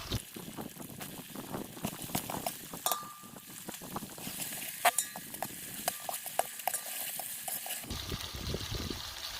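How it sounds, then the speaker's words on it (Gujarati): Tomatoes added and stirred into eggplant sabji (varaliya ringan nu shaak) frying in a pan: spoon scrapes and clinks over a steady sizzle, close and fairly quiet, with no talking. "ચાલો મિત્રો, હવે ટમેટા નાખી દઈશું આપણે."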